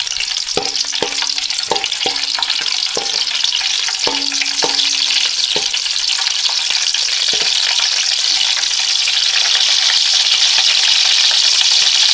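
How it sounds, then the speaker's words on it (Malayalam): Cashews and raisins frying in ghee, a continuous loud sizzle close by with several light clinks of a spoon stirring in the pan during the first half. "അണ്ടിപ്പരിപ്പും മുന്തിരിയും കൂടി ആ നെയ്യിലേക്ക് ഇട്ടിട്ട് നല്ലപോലെ ഒന്ന് ഇളക്കി കൊടുക്കുക"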